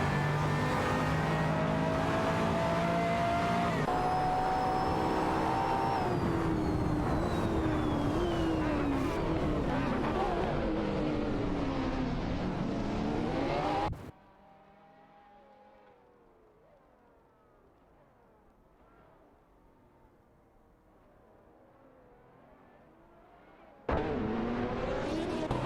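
Race cars, a Bertone Mantide and a McLaren, roar in a racing video game, engines loud and revving with shifting pitch, then dropping to a faint distant drone before the noise surges back.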